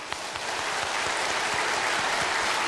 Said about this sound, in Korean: 박수 좀 쳐줘봐.